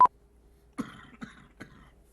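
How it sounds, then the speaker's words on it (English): A person coughs and clears the throat in a TV sports studio at the end of a live ESPN show, a sharp burst followed by three rougher, lower throat sounds spaced about half a second apart, close and fairly quiet. "I was holding the cough until now."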